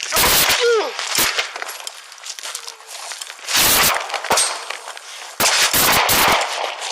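Police firing guns during a shooting, with several loud, sharp bursts of shots spaced across the clip, close and harsh, alongside shouting voices.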